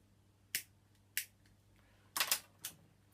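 A dead lighter is flicked several times without catching, producing sharp, close clicks and scrapes in an uneven series, one longer rasping strike among them, in an otherwise quiet room.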